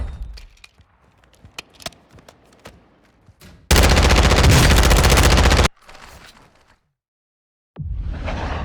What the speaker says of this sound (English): right here you'll see me shooting at the dummies real quick